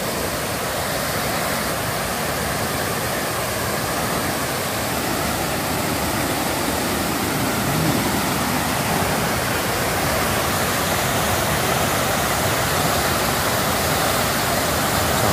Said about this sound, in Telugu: శనిగరం వాటర్ ఫాల్స్ ఇది ఒక పెద్ద రిజర్వాయర్.